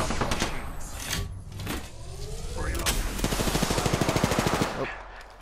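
Gunfire in the Apex Legends video game: several loud automatic bursts, ending in a fast, even rattle of rapid shots mixed with other game effects.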